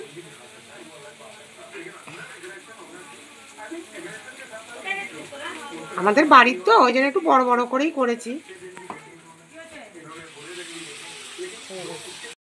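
Soya cutlets dipped in egg fry in a kadai with a steady, soft hiss that runs throughout, while a person talks over it for most of the stretch.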